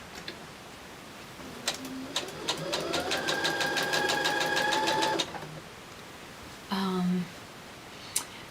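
A home sewing machine stitches fabric in a quick, steady mechanical burst of about two seconds, then stops, followed by a short whirr and a click, fairly quiet and near.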